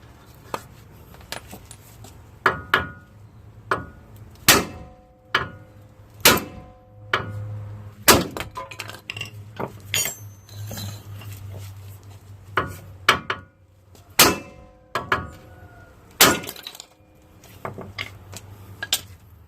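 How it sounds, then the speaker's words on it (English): Repeated sharp metallic bangs of a hammer striking a Nissan Xterra upper control arm, irregularly spaced over a low engine-like hum, loud and close. "When all fail, you just have to bash it with the hammer directly."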